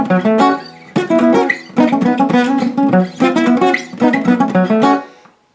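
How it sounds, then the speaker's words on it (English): Strummed guitar rhythm from the instrumental section of a song, with bright chords played high on the neck in steady driving bursts, close and loud, fading out at the end. "The rhythm for the instrumental section sounds like this."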